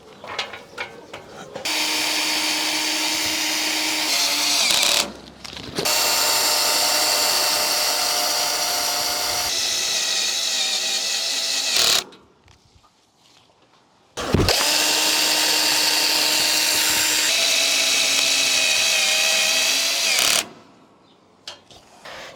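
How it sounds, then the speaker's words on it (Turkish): Power drill driving screws into the iron frame of a tent fan, heard as loud, close whirring runs of several seconds each, separated by short pauses. "Çadırımızı fana göre kesmeden önce de bu demirin üzerine vidalarımızı saplayacağız"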